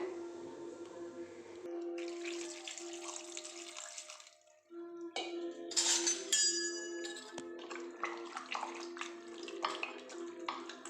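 Shallots being rinsed in water for a village-style mutton curry, with steady splashing and running water, a brief lull near the middle, then renewed sloshing and clinking close by.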